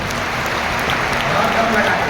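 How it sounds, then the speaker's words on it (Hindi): A large crowd at a Hindu religious gathering, the Bageshwar Dham divine court, claps for a child in a dense, steady wash of applause mixed with voices. "एक बार ताली बजाओ इस बच्चे की।"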